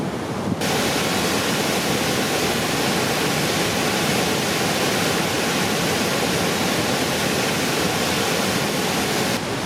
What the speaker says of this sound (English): That is the Rideau Falls.